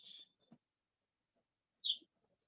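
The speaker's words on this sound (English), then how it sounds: "Someone has birds." Two short, high bird chirps sound apart against near silence, faint and somewhat distant, with a brief low thump between them.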